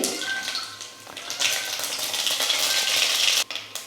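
Mustard seeds spluttering in hot oil in a kadai give a steady, close, hissing crackle, with a brief dip near the end.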